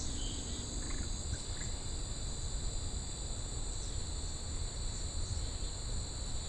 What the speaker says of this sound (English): Oh, tree frog.